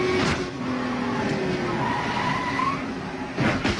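Mark Martin's NASCAR race car at the Daytona 500 screeches and skids before slamming hard into the outside wall, a loud tire squeal and grinding scrape with a brief impact burst near the end.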